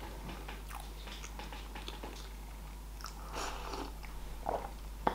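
Close-up mukbang eating of strawberry cheesecake, with steady soft biting and moist chewing, a few crunchy bites and squishy mouth sounds growing slightly louder toward the end, with no talking.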